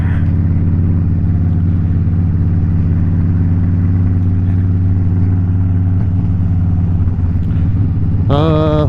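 Harley-Davidson Crossbones motorcycle engine droning steadily and loudly while riding, a deep continuous rumble close up, rising in pitch near the end as it revs, with no talk.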